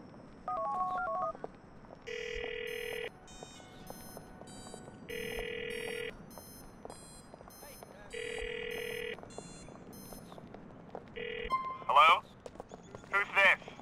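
A phone number is dialed in Grand Theft Auto IV: a short run of DTMF keypad tones, then long evenly spaced electronic beeps over low game background noise, ending in a few brighter chirps.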